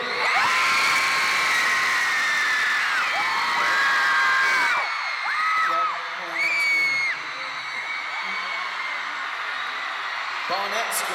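A large arena concert crowd screams loudly in unison on a count of three, holding the shrill roar for several seconds before it thins into scattered shouts and whoops.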